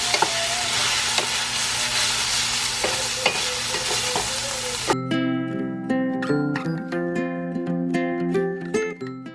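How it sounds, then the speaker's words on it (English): A dish with pepper sizzles steadily in a pan as a utensil stirs and scrapes through it, close and fairly loud, then the frying gives way to tonal clattering. "So stir that all in."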